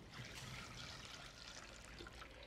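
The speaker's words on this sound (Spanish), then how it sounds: "Le voy a poner agua. Nada más hasta que se tape bien la carne." Water pours over meat in a cooking pot for a ranch-style recipe, a soft continuous trickling and splashing stream, faint and steady without pauses, with no talking.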